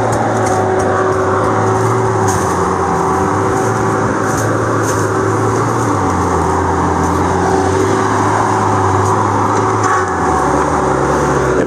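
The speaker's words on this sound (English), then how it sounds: "So there's a single cylinder engine there." A single-cylinder engine runs steadily near a Tigercat LX830D machine on wet ground, a loud continuous drone with a constant low hum and even tone throughout, no voices over it.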